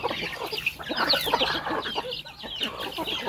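A flock of chickens kept as food animals on a Thai family's home farm clucks continuously, with busy overlapping calls close by and no talking.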